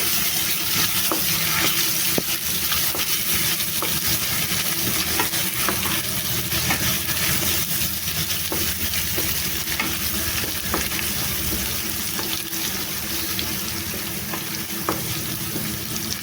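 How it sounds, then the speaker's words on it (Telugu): Ginger garlic paste and turmeric sizzle steadily in a pan for green banana fry, a continuous frying hiss broken by occasional stirring clicks, close and constant with no talking. "వేసేసి పచ్చివాసన పోయే వరకు ఫ్రై చేసుకోవాలి"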